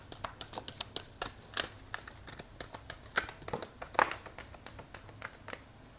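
Tarot cards being shuffled by hand, a quick irregular run of soft riffling flicks and papery slaps, close and fairly quiet, with no voices.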